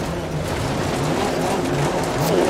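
A rally car in the Dirt Rally 2.0 video game on a slippery Welsh stage, a loud continuous engine drone over rough tyre and gravel noise, with the revs rising and falling briefly.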